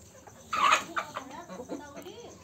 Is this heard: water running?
no